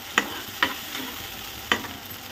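Onions sautéing in a pan over low heat for a dhaba-style rajma, with three sharp spoon-scraping stirs over a steady soft sizzle, close and fairly quiet.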